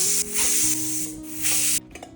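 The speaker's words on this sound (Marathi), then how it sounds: "पाणी टाकून व्यवस्थित मिसळून घ्यायचं आणि झाकण लावून 4 शिट्ट्या करून घ्यायच्या" A pressure cooker whistling while mutton cooks, with loud hissing bursts of steam from the whistle that come in several pulses and then stop abruptly.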